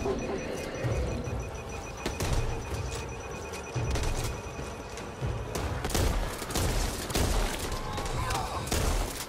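The Express shotgun in Back 4 Blood fires in repeated heavy blasts, several booming shots spaced across the stretch over a busy background of game noise and faint voices.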